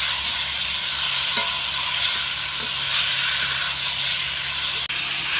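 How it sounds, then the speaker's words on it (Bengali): Potatoes sauté in a pan of spice masala with a steady, close sizzling hiss and occasional stirring scrapes, and no one speaks. "এবার আমি ভেজে রাখা আলুগুলো দিয়ে দেবো। আলুও আমি একটু ভালোভাবে কষে নেব।"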